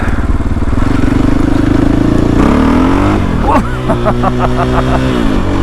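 A KTM 500 EXC-F dirt bike fitted with a TACO MOTO GET SX1 ECU roars up close while being ridden hard, its pitch climbing and then dropping through repeated revs and shifts.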